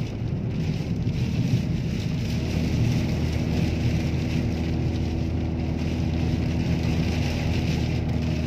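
Heavy rain driven by strong wind in Tafila, southern Jordan, makes a dense, steady roar and hiss that stays loud and continuous throughout, with no voices.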